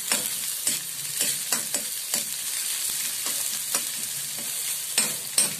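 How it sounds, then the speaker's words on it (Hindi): Ingredients for bread potato patties fry in a pan, with a steady sizzle broken by repeated sharp scraping and stirring strokes from a spatula, close and fairly loud with no talking. "इसको लाइट ब्राउन कलर तक फ्राई करेंगे।"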